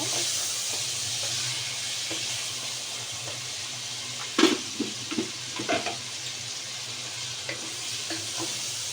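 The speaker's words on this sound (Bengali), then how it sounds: "এখন পেঁয়াজের সাথে আমি মাংসগুলো মিক্স করব কিছুক্ষণ নেড়ে ছেড়ে দিব" Meat pieces stirred with onions in a pan for shahi haleem, a steady sizzle with a cluster of sharp spatula scrapes and knocks midway, otherwise quiet frying hiss and no speech.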